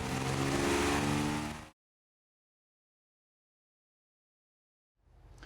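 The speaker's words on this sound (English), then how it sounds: "Up next, we torque down a free-flowing cylinder head and fire up the dyno." A Ford 300 inline-six engine on a dyno roars loudly for under two seconds, then cuts to silence before the roar briefly returns at the very end.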